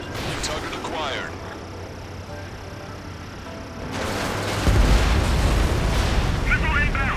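Bombing explosions in the combat flight game Ace Combat 7: a loud, continuous wash of rumbling blasts and booms that swells heavier partway through, with radio-style voices talking over it.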